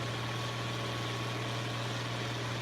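Steady low idle of a tractor engine in Farming Simulator 25, a constant bassy hum with even vibration, quiet and uninterrupted, no voices.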